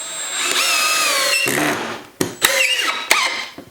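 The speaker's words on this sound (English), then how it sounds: "So we'll go ahead and drive it here." A power drill drives a 2.5 inch sheetrock screw into a piece of pine laid on a 2x4: a loud, rising motor whine for about two seconds, then several short, choppy bursts as the bit slips.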